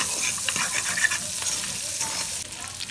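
Jamaican corned pork, coated with a little egg powder, frying and browning in a pan, a steady close sizzle with scraping and stirring throughout, no talk.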